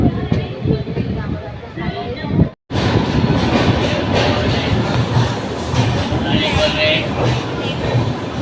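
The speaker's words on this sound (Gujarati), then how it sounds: "અને આ છે એમનું રેલવે સ્ટેશન." A train at Tirupati railway station rumbles and clatters loudly and continuously, with station noise and voices mixed in and a brief cut partway through.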